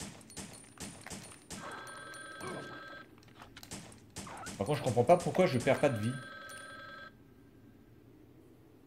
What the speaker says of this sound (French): le téléphone sonne, tu permets